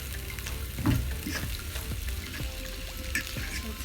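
Onions sautéing in a pan for corned beef hash, a soft continuous sizzle with a few light scrapes and taps of stirring, fairly close and moderate in level.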